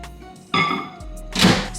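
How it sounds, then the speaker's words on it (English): A microwave door with a potato inside shuts with a solid close thunk, followed by faint clicking and rustle nearby. "put it in the microwave for about 5 minutes"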